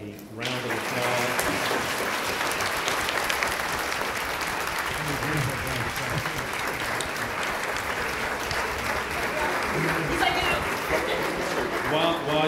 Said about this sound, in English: can you please give our panel a round of applause?